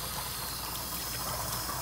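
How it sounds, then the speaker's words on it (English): Clear potable water flowing through a camper's water lines while the system is purged of antifreeze: a steady, close rushing hiss of running water with no breaks. "So now we're purging the system of the antifreeze and getting clear water"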